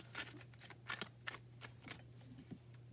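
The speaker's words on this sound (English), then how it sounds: "I can't just stop shuffling right there, though." A small Kawaii tarot deck being shuffled by hand, a run of crisp riffling card flicks repeating in quick bursts over a steady low electrical hum, close and fairly soft.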